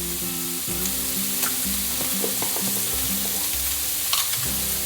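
Minced garlic hits a hot frying pan and sets off a steady close sizzle, with clinks and scrapes of stirring over a low intermittent hum.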